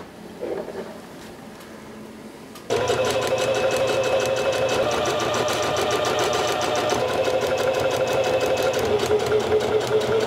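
A sewing machine stitches the seams of a cowboy-style vest, starting abruptly after a quiet moment and then running steadily and rapidly with a close mechanical chatter, alone without talk.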